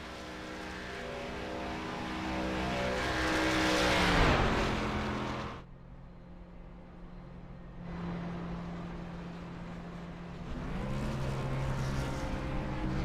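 Race cars pulling off pit road at Daytona, engines droning and swelling as they accelerate and pass, a loud rise then a drop to a quieter rumble before building again, with no talk.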